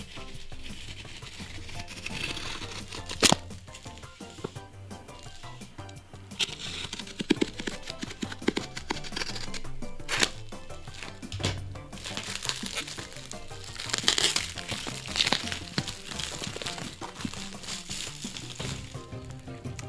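Brawl Stars merchandise being unboxed up close: continuous crinkling and rustling of plastic film and packaging, with scattered sharp crackles and tearing of tape, no talking.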